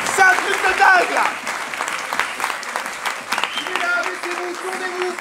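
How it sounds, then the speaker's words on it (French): A live improv theatre audience at a Paris festival claps loudly and continuously in dense applause, with voices faintly mixed in beneath it. "On peut les applaudir très très fort à 11h du mat."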